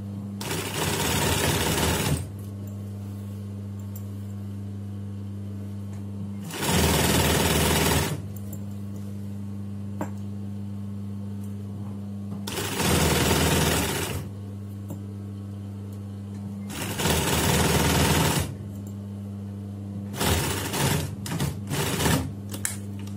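A pedal-controlled sewing machine stitches a wrap skirt in four sustained bursts of loud, rapid mechanical whirring, then a string of short stop-start runs, with a steady low motor hum filling the pauses.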